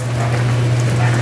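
Rain falls outside a boarding house as a steady broadband patter, loud and even, over a strong low electrical hum running underneath the whole time.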